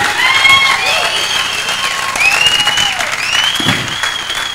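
A concert audience applauds steadily after a live band set with a horn section, the clapping loud and continuous with a few cheers and whistles mixed in.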